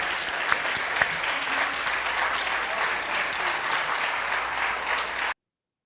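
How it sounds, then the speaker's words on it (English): An audience at a lunch event gives a steady round of applause, the dense clapping holding at a fairly even level for about five seconds before cutting off abruptly. "Let's give another applause to Ambassador Thompson."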